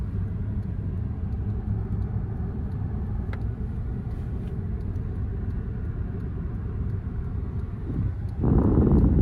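A car drives in neutral with its speed rising, giving a steady broad road and engine rumble that grows louder and heavier near the end.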